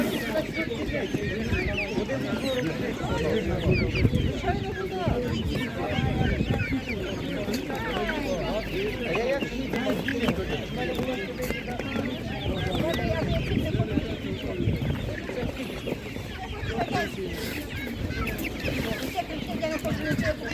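Chickens and roosters at a market cluck and chatter steadily in a dense flock, while people talk nearby over them.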